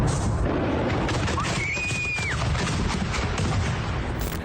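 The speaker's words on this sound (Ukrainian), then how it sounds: "Так вибухають боєприпаси касетної бойової частини." Dense, rapid crackling booms in a continuous fusillade of cluster munition submunitions exploding together, with a brief whistling tone rising and falling midway.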